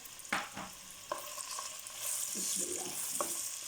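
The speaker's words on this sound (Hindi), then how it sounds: "मैं ऑयल डाल दिए मैंने पैन में। ये प्याज पहले हम थोड़ा सा इसको मसाले को हल्का हल्का हम करेंगे, सौते हो जाइए ज़रा प्याज हमारा" Onions sautéing in oil in a pan for chicken jalfrezi, a quiet sizzle with several sharp clinks and scrapes of a spoon against the pan near the start, close and without talking.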